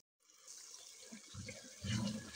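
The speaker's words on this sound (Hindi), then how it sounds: "थोड़ा सा पानी डाल के" A steady splashing stream of water poured into a pan of roasting spices for dhaba-style spinach and chana dal, close and fairly quiet, growing slightly fuller toward the end with no speech.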